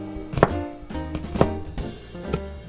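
A kitchen knife roughly minces garlic on a cutting board, three solid, evenly spaced chops, close and clear.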